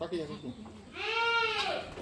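A newborn goat kid, offspring of an F2 crossbreed doe on a farm, lets out a loud, wavering bleat close by after a shorter cry, with people talking around it.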